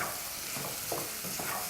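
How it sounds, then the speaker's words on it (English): Liver sizzles steadily in a hot pan, with a few soft stirring scrapes breaking through the constant frying hiss. "just keep frying until you get that beautiful gray color."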